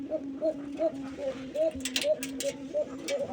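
Male pigeon coos steadily inside a rooftop loft, a rhythmic run of low, repeating calls close by, with a voice speaking over part of it.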